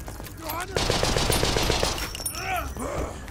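Rifle gunfire in the World War I survival game Conscript: a loud, rapid string of about ten evenly spaced shots, followed by quieter scattered sounds, with a voice talking over parts of it.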